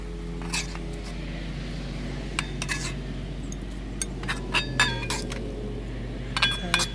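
Utensil clinks and scrapes against a pot while tender cooked meat is scooped out for biryani, a series of sharp metallic taps scattered over a steady low hum, close and moderately loud.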